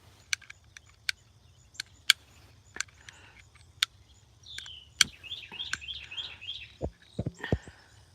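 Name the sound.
bird chirping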